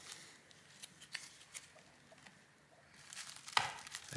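Small scratches, clicks and plastic creaks as a plastic pry tool works at the bottom case seam of an MSI Modern 15 B2M laptop, soft and close, ending in a sharper snap as a clip lets go.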